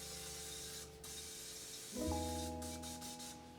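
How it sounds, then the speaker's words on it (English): A can of cooking spray, close to empty, hisses briefly into a pan, a short soft burst over a steady kitchen hum and a few clinks. "Give it a little spray."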